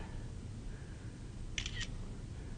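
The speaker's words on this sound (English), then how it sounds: "There's no sort of mechanical piece of this iPhone that clicks when a photo is taken" An iPhone's simulated camera shutter sound goes off as a photo is taken, a quick crisp double click heard once over a steady background hiss in a room.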